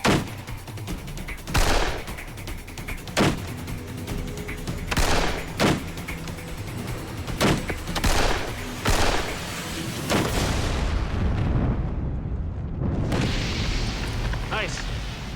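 Luger and Tokarev pistols fire a string of sharp, separate gunshots outdoors, followed by a heavier, rumbling boom as a tannerite-loaded explosive target detonates.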